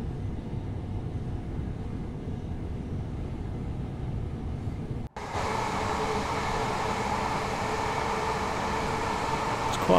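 A long London commuter passenger train from Victoria to Brighton in Train Sim World 4 rumbles steadily uphill, then its broadband roar and rail hiss suddenly grow brighter and louder partway through.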